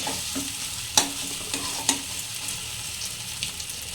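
Snails frying in a pan for a masala curry, a soft steady sizzle with a few sharp stirring clinks and scrapes, close and alone without talk.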